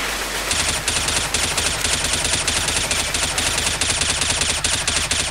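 Rapid automatic gunfire from Left 4 Dead 2, played in a co-op LEGO custom campaign, runs loud and close in continuous rhythmic bursts with hardly a break.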